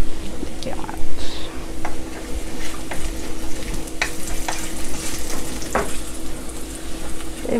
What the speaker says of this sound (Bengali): এভাবে আমি ডালটা তেলে দেব। পেঁয়াজ গরম হয়ে গেছে